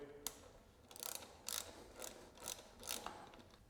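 A torque wrench set at 12 tightens the wheel axle on a Privateer 161 bike, giving a faint series of about six ratcheting clicks in an uneven rhythm, close up and quiet, with no speech.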